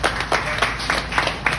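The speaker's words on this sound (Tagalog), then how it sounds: "Pinoy talaga, palakpak agad." Scattered audience clapping at a Filipino comedy show, arriving in rhythmic bursts about every quarter second over a steady room hum, fairly close and moderately loud.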